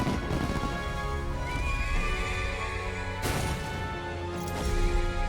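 A horse whinnies loudly nearby in the video game Metaphor: ReFantazio, with clattering hoofbeats and a sharp crash partway through, over a busy game soundtrack.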